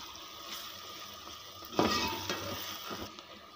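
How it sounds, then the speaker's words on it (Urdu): Onions frying in a pot for chicken biryani masala make a soft sizzle, with a brief louder burst of stirring and spattering midway and a few small clatters afterward. "جب پیاز اچھے سے فرائی ہو جائیں گے، گولڈن سا کلر آ جائے گا ان کا"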